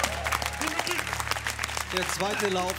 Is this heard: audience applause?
yes